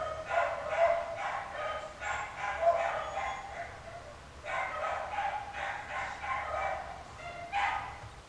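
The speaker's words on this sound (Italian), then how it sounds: "questi cani che abbaiano proprio quando devo registrare il video" Several dogs bark repeatedly nearby in quick, uneven bursts, pausing briefly and starting again, fairly loud over a quiet room.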